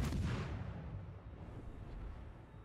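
Warship destroyed by heavy naval gunfire in World of Warships, a loud booming artillery blast with a rumbling low-end tail that fades slowly over a few seconds.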